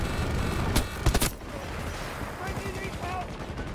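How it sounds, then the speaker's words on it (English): Rattling automatic gunfire and single shots from the video game Battlefield 2042, sharp cracks clustered early and then a steady run of rapid fire, close and loud with game sounds mixed in. "They're shooting at us."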